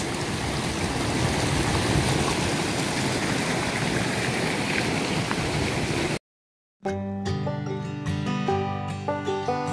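Yellow sulfur-tinged hot-spring river on Mount Pangrango via the Cibodas trail, a steady broadband rush of flowing water that runs loud for about six seconds before cutting off into a brief silence and then musical tones.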